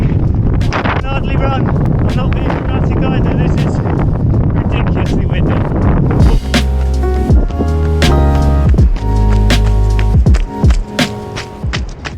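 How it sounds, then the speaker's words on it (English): Strong wind buffets the microphone with loud, continuous roaring and gusting, with a voice heard talking underneath the blustery noise. "So windy."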